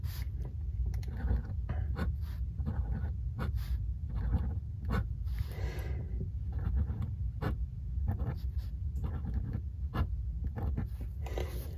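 A vintage Pelikan fountain pen with a flexible music nib doodles on paper, a close, continuous soft scratching with repeated short strokes and taps over a low room hum.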